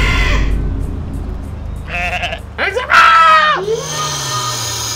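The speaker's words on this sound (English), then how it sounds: "what kind of damn goat noise is it?" A goat bleats loudly in a wavering cry, following a few short noises, with background ambience from the video game Goat Simulator.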